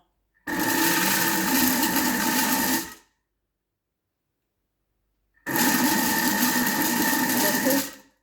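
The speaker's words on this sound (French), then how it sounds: "Je vais mettre 20 secondes en mode pétrin" A kitchen machine runs in kneading mode in two bursts of roughly two and a half seconds each, a loud, steady motor whir with a gap of silence between them.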